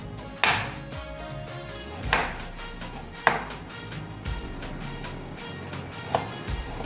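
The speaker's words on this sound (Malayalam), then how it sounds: "എന്നിട്ട് ഇതേപോലെ ഞാൻ നുറുക്കാം" Nutmeg pieces being chopped by hand, several sharp, separate knife strikes on a board spaced a second or so apart against a quiet kitchen background, with no talking.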